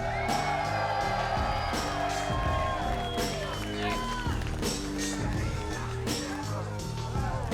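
A wrestling arena crowd screams, whoops and cheers loudly and continuously in a dense, sustained roar, with shouting voices and intro rap music running beneath it.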